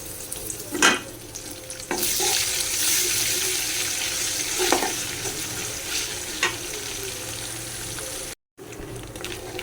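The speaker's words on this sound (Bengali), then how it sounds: "আদা রসুন পেঁয়াজ হচ্ছে ভাজা হয়ে গেছে" Ginger, garlic and onion frying in a pan over a low gas flame, an even sizzle with occasional sharp clinks and stirring scrapes, close by and without speech.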